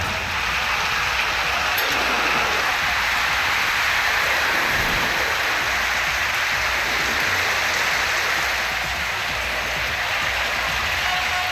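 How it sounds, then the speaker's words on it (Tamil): Heavy summer rain pours down in a Tamil Nadu district, a steady, dense hiss of downpour that stays loud and unbroken from start to finish. "கோடை மழை கொட்டி தீர்த்தது"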